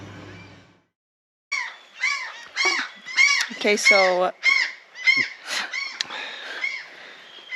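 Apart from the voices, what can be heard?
seagulls calling loudly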